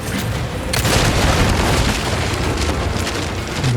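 An explosion in the video game Resident Evil 4 Remake: a loud, sustained rumbling blast that fills the clip after a sharp onset, with no speech over it.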